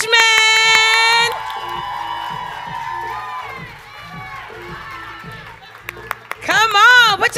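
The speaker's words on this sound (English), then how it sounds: "Don't stop clapping." An audience at a business marketing event claps and cheers as guests are brought on stage. The crowd noise swells loudly near the end, mixed with music and a voice talking over it.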